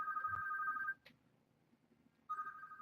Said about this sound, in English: not answer phone calls.